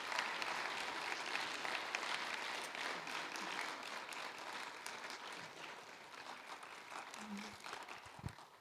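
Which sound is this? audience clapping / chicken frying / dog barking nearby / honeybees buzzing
audience clapping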